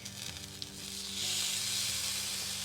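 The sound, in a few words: steak searing in oiled hot pan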